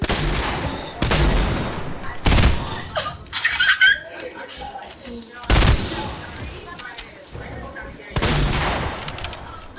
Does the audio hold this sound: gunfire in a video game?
yes